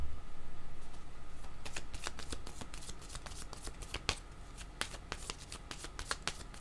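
Cards are shuffled continuously for a card reading, a steady riffling followed by sharper flicks and taps, close and fairly quiet, with no talking.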